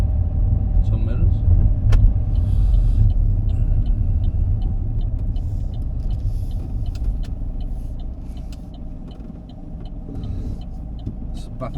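A car pulls away along a road during a driving lesson, giving a steady close engine rumble and road noise that slowly fades slightly, with a person talking over it.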